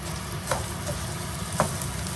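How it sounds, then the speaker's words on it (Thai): Stir-frying in a pan, a steady low sizzle with two light clinks of a utensil against the pan, close and without talk. "เดี๋ยวผัดให้มันหอมก่อน"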